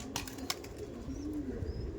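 Andhra-breed pigeons for sale cooing close by, soft rolling coos with a couple of brief clicks and handling noises at the start.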